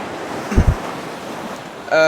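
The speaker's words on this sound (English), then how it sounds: "we have some sounds, we have water sounds" Waves and water wash steadily in a wetland basin beneath a rock spire, a broad, close rushing with wind noise, a couple of low thumps partway through and a brief tonal sound at the end.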